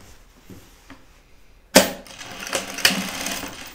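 A sewing machine stitches the center back seam of a pair of jeans. It starts abruptly after a quiet lead-in and runs in a loud, close burst with a few sharper peaks.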